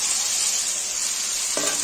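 Fried potatoes hit a pan of sizzling spices, a dense close-up hiss of frying that runs throughout, followed by a short scraping stir at the end.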